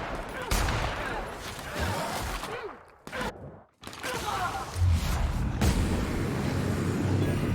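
Sniper rifle shots in The Outer Worlds, used while sneaking: a few sharp, loud reports amid busy combat noise, with a short near-silent gap midway before the clatter resumes.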